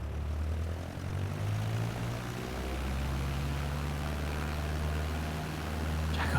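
Propeller airplane taking off in Microsoft Flight Simulator on Xbox Series X, a steady droning engine hum with a low rumble, continuous and fairly even, with no talking.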